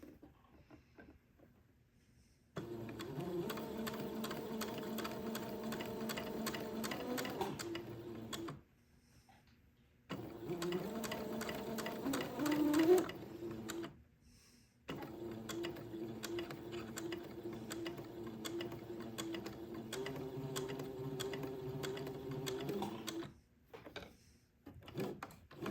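A sewing machine hums and whirs in three steady runs stitching a line near a fabric edge for a gown, separated by short quiet pauses, fairly faint and without talk.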